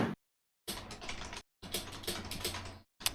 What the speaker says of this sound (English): Sorry for hearing my keyboard right then.